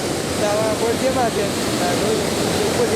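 Water roars through the opened gates of a dam after rain near Bhanvad, a loud steady rushing wash with a voice talking over it.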